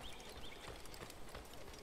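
Horse hooves clip-clop in the Assassin's Creed video game, a faint, steady rhythmic patter of hoofbeats at a distance with no talk over it.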